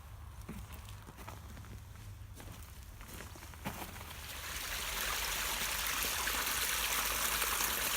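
Water stream at a nature reserve flowing down to a reservoir, first a faint trickle under footsteps on the path, then swelling into a louder, steady rushing as the walker comes close.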